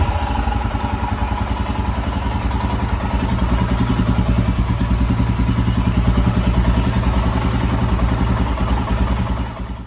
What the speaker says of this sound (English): I'll just throttle the bike a couple of times, not a lot, just a little bit, to make sure that the engine is working perfectly